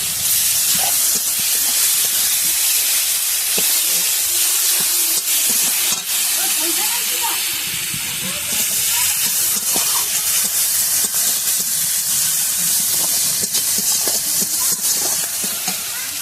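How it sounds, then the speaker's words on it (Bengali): Tomatoes are added to ginger frying in a pan and give a loud, dense hiss and sizzle like steam that goes on for the whole stretch. It is very close, with faint scraping from stirring underneath and little or no talk. "আদাটা ভালো করে ভাজা হয়ে গেছে এবারে টমাটোমটা দিয়ে দেবো"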